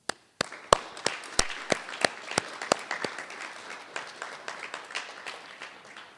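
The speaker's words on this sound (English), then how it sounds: "Please join me in thanking them with a round of applause." Audience applause at the close of a National Honor Society induction ceremony, heard as a sparse, modest round of claps from a small crowd, with distinct individual claps scattered over a soft wash of clapping that tapers toward the end.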